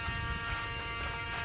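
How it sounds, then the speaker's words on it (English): A vacuum cleaner runs steadily with a buzzing, humming motor tone close by, an unbroken drone with no voices over it. "Let me vacuum your arms."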